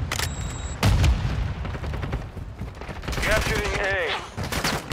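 Gunfire in the video game Call of Duty: Modern Warfare II, loud bursts of rapid shots and booms in close succession, with chatter and game sounds mixed underneath.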